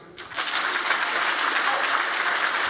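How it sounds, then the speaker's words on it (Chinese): An audience at a Chinese orchestra concert in Southern California breaks into applause that starts abruptly and keeps up as full, steady clapping throughout. "谢谢大家的掌声"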